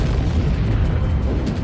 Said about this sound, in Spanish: La bomba, que se probó aquí hace 70 años, convirtió la noche en día